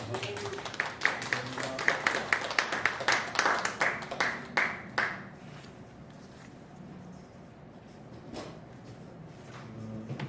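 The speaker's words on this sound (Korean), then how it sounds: "교수님 나오실 때 박수로 환영하시고" A lecture audience claps to welcome a visiting professor, with fairly rhythmic claps that come close and loud, then taper off and fade after a few seconds into quiet room sound and speech.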